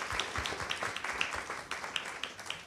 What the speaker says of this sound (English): A big round of applause for Maristella Svampa.